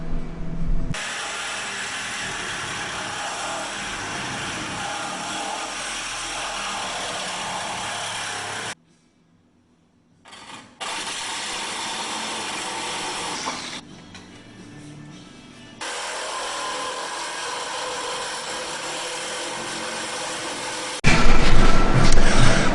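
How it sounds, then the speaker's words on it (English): A grinder with a wire brush works down metal on a car front end while an un-welded tubular front end is being fitted, giving long steady abrasive whirring runs broken by short pauses, loud and close, with no talk. "Cleaned up the entire area up really, really well with a grinder and a wire brush."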